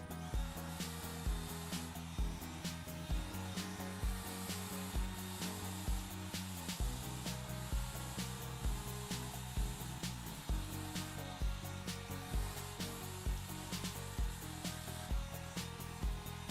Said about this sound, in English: then you put the blow dryer behind the brush like this and you rock it out